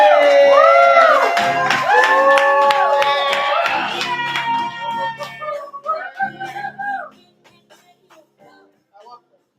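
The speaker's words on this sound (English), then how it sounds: "Please make some noise for the homie Chris, y'all. Clap until Chris gets to the stage" Open mic crowd clapping and whooping loudly for a performer heading to the stage, with shouts and cheers over dense applause that fades into scattered claps and a few trailing voices.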